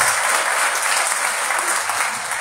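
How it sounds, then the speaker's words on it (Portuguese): A church congregation claps during an evening worship service, honouring a couple. Dense, steady applause fills the whole clip, close and loud, with no pauses. "Um aplauso, Senhor, para vida nesse barraco."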